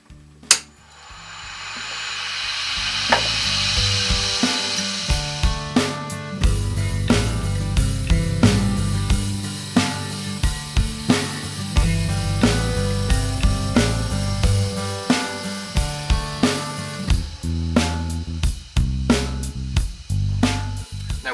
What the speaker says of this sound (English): square off the right hand side here with the thin parting tool